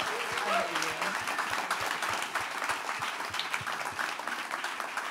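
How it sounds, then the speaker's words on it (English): An audience at a panel discussion applauds steadily throughout, with a voice briefly asking applause for the moderator over the clapping at the beginning. "And give our moderator a round of applause."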